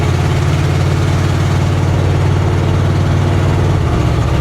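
An old 1970 International D1000 truck rumbles steadily at highway speed, a deep, even engine drone with cab noise filling the whole stretch.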